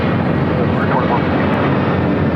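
A Spirit airliner taking off from runway 25 right at LAX, heard as a loud, steady, broadband jet engine roar that holds unchanged throughout with no pauses.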